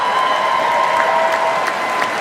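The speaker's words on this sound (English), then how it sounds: "Just eating up the applause." An audience applauds in a dense, sustained wash of clapping at an even level from start to finish, with a faint voice beneath it.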